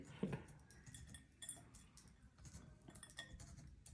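Cutlery clinks and scrapes as a fork stabs a greasy, oiled potato for baking, a few short metallic taps near the start and scattered after, close and fairly quiet, with no talking.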